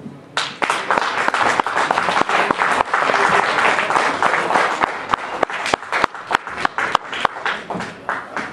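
Loud, dense applause from a crowd for a band at a Christmas Blues Party, a full wash of clapping that thins into sparse, distinct individual claps toward the end.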